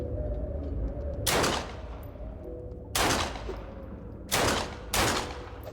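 Two guns fire at once in the online game Fallen Earth, sounding as four loud, broad bursts of gunfire spread over several seconds above a steady game background hum, with no talking.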